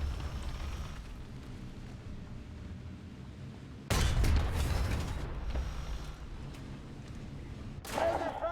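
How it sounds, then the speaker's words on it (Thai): Sudden loud burst of gunfire and blasts in a War Thunder tank match on the dev server with a Leopard 2 PSO, breaking out after a quiet stretch of low rumble and recurring in a shorter crack near the end. "ใครยิงมานี่"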